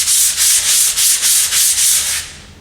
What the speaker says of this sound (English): You gotta make sure you got a sanding block.